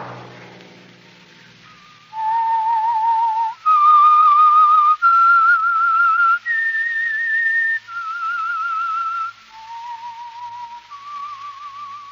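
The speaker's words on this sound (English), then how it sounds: "Let that whistle be your signal for The Whistler" A lone whistler carries the eerie theme of The Whistler radio show, a run of clear sustained notes stepping up and down in a slow melody, bright and close with nothing else beneath it.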